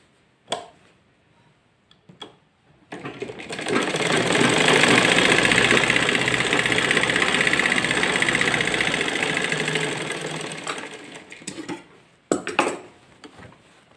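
Stitching along a salwar seam, the sewing machine runs in a single sustained, close mechanical drone for several seconds, framed by brief taps and fabric handling at the start and end.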